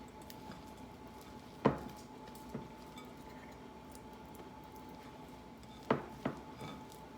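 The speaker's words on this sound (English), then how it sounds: "we're going to mix this in until well combined" Mozzarella cheese gets stirred into spinach dip in a bowl, with a few sharp utensil clinks against the bowl over a quiet, steady background hum, no talking.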